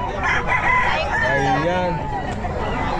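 A Sweater Dome gamefowl rooster crows loudly at the Bocaue pet market, one long drawn-out call rising and falling over steady crowd babble and other fowl clucking nearby.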